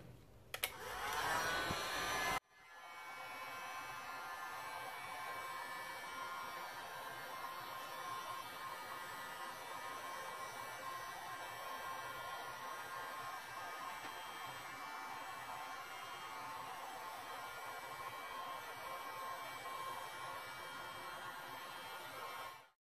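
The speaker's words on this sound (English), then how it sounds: "we can just get the heat gun" A heat gun blows steadily over a resin art pour, a continuous close airy whoosh that runs alone for about twenty seconds after a brief louder burst at the start.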